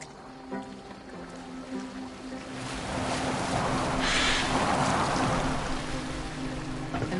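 A boat moving across the sea in Assassin's Creed Valhalla, a continuous whooshing wash of water and wind that swells louder midway, over a low steady hum of tones.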